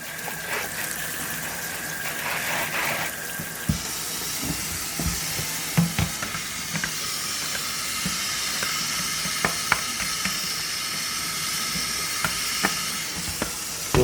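Water runs and splashes over canned green beans being rinsed in a cooking pot, a steady broadband wash with scattered clinks and taps from the can and pot, close and continuous without speech.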